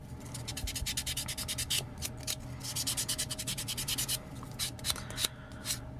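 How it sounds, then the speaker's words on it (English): A fingernail is buffed before an at-home gel manicure in quick, rhythmic back-and-forth scratchy strokes, close up and soft, with no talking. "So just a quick buff, make sure I get in the corners on this one."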